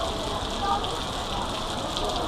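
Steady rain falls around an old Chinese temple in Singapore, a constant broadband hiss of drops on surfaces, moderately loud and unbroken throughout with no clear voices.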